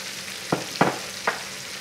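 Red and green peppers, celery and onions sautéing for chicken étouffée, with a soft sizzle under three quick scraping stir strokes, close and fairly loud.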